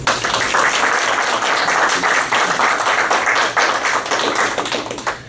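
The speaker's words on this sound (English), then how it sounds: "Please help me welcome Mr. Reynold D. Douglas." An audience claps and applauds at a section meeting presentation to welcome a speaker. The clapping is dense, loud and sustained for several seconds, then begins to fade near the end.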